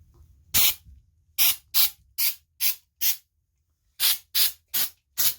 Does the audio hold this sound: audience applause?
no